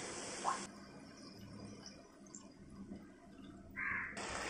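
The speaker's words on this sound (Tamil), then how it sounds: "இப்ப இதுல லேசா நம்ம தண்ணி ஊத்திக்கலாம்." Water is poured into a cooking pan of boiled mutton nalli (bone marrow) gravy, a splashing, trickling pour with a gurgling burst near the end, fairly close and with no speech.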